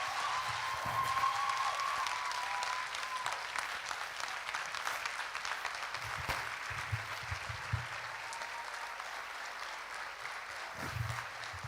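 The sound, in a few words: audience applause for a sermon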